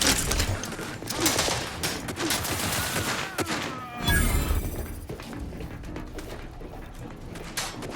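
Gunfire in The Outer Worlds 2 video game: bursts of shots and impacts in a busy, loud mix, with a sharp crack around the middle and a voice speaking briefly.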